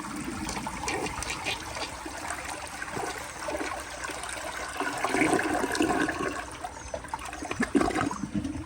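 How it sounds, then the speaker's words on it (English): A 1980 Crane Radcliffe front-fed siphon jet toilet flushing, with a steady rushing gush of water that swells midway and trickles on through the whole stretch, close and alone with no talk. "here's another flush"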